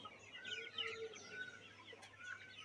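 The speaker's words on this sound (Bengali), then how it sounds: "এগুলো মনে হয় সোনালি মুরগি।" Sonali chickens on a poultry farm cluck and chatter in overlapping bursts, several birds close by, with soft chirps scattered through a quiet background.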